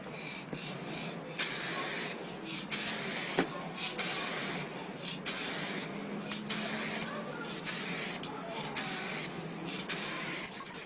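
Aerosol paint sprays in repeated short bursts onto a Moto Guzzi V7 underseat guard, each hissing blast separated by brief pauses and quiet handling noise, close by with no talking.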